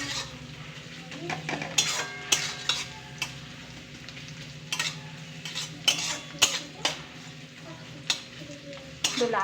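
Food frying in a pan, browning before spices go in, stirred with repeated sharp utensil clinks and scrapes against the pan over a soft continuous sizzle, close by.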